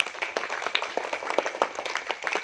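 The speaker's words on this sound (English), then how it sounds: "Give a very good clap." Audience applause at a school award ceremony honouring a fifth-standard student for a Super Student Award, with dense overlapping claps throughout and bursts of individual sharp hand claps standing out.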